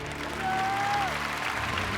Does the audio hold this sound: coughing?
no